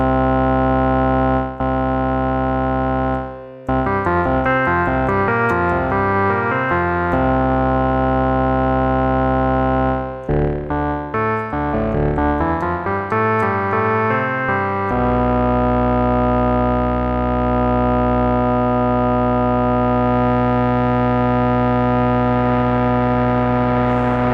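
Sustained electronic synth tones from a Roland S1 with shifting chords and a long reverberant tail that lingers and rings out alone after the notes stop.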